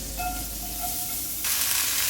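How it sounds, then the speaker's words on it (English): Brief hissing sizzle of onions frying in a pan, with a faint tonal squeak early and a louder burst of sizzle near the end. "You get a little sizzle"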